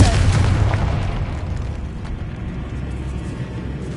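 A Confringo blasting spell explodes in Hogwarts Legacy, a booming burst at the start that rolls off into a fading rumble.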